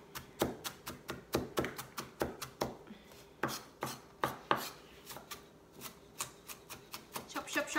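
A knife chops shallots on a cutting board inside a camper van, giving steady, close, rhythmic taps that keep going throughout, with faint background noise.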